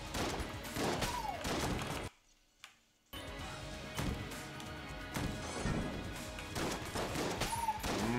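Gunfire and bullets in Enter the Gungeon, rapid clattering bursts of small arcade-style shots and impacts, busy and dense, broken by a brief near-silent pause before the shooting resumes.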